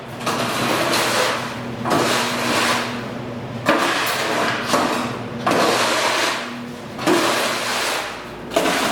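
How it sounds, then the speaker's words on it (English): Cleaning liquid is sloshed and pushed around a garage floor in broad, wet, swishing strokes, each pass a loud rush lasting a second or two, repeating in an uneven rhythm with brief pauses between them. "Just kind of slosh it around here."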